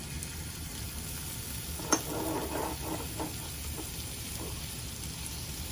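Butter and garlic sizzle softly in a hot pan while creamy garlic Tuscan salmon is being made. A quiet, steady crackle runs throughout, with a brief louder pop near the start.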